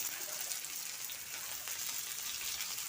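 Boiled potatoes fry in hot oil in a wok with asafoetida and panch phoron, giving a soft, steady hiss and sizzle throughout, faint and without talk.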